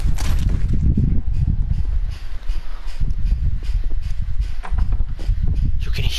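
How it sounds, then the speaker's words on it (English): Footsteps in the video game Call of Duty: Modern Warfare, a loud close run of rapid, rhythmic thumping steps with some heavier thuds. "Hear the footsteps he's on!"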